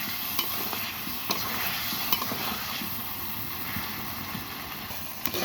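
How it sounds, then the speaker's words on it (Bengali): Potatoes with turmeric and salt fry in oil with a soft, steady sizzle, broken by occasional light clicks from stirring in the pan. "প্রথমে তেল দেওয়ার পর কিছু আলু আলুর সাথে হলুদ লবণ দিয়ে একটু ভাজা ভাজা করে নিতে হবে"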